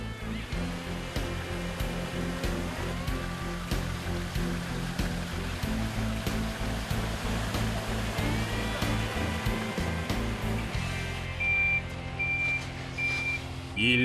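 A truck's reversing alarm beeps steadily at a Korean flatfish (olive flounder) farm on a fish shipping day, loud and repeated over continuous machinery and water noise, with faint chatter.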